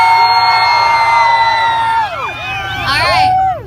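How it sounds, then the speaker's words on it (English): A crowd at an exhaust sound competition cheers, whoops and yells for a Mustang, a loud sustained roar of many voices with shrill whistle-like cries rising and falling throughout. "I just want to hear you guys yell one more time"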